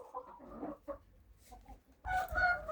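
Chickens clucking in a backyard coop, a run of soft, irregular calls from close by that swells into a louder, busier burst of clucking toward the end.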